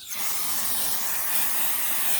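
A steady hiss of cleaner sprayed from a bottle onto a kitchen unit, continuous and close, lasting a couple of seconds with no talking.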